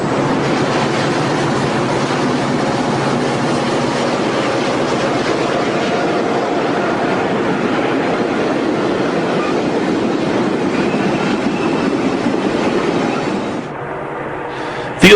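Train rolling past Fields siding on the Southern Pacific line in the Cascades, a loud continuous roar of wheels and cars close by for many seconds, easing slightly at the very end.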